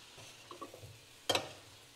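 Cauliflower stir-fried in a pan with ground spice powder, a quiet sizzle with a few light scrapes and one sharp clatter of the spoon against the pan near the end, with no speech.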